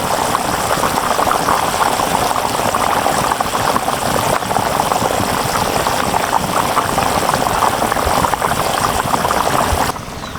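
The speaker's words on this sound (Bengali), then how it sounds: "আমার জলটা সুন্দর করে ফুটে গেছে" Water comes to a rolling boil in a pot of tuna fish curry, a loud, steady, dense bubbling roar held for about ten seconds, with no voices.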